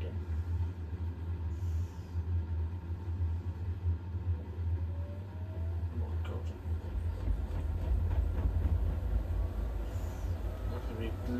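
A Samsung AI washing machine spins a mixed load on an intensive cycle, giving a steady low mechanical rumble that grows heavier and louder toward the end, with faint ticking on top.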